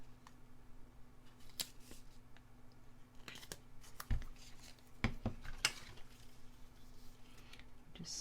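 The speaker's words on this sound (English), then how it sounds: "Just snip that off." Scissors snipping paper for a scrapbook layout, a few faint, sharp cuts and small handling rustles spread across a quiet room.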